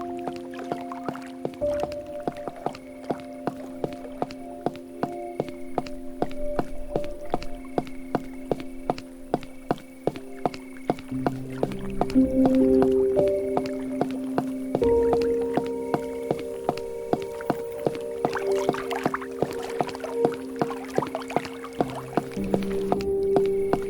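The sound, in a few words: flowing water, from the video game Cabernet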